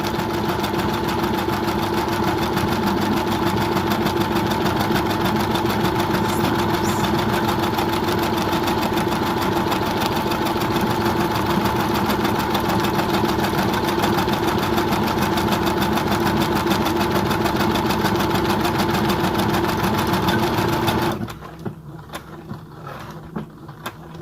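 A Brother sewing machine stitching a buttonhole on a vest, humming in a loud, steady, close mechanical drone of rapid needle strokes that runs unbroken before it cuts off near the end.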